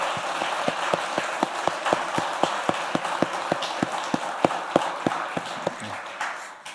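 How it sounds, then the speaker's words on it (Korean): A church congregation at an Easter service claps in a steady, unified rhythm of sharp beats, loud and close, slowing and fading at the end. "우리 박수로 하나님께"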